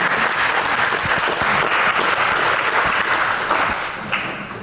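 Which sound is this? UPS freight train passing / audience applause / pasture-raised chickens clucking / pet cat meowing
audience applause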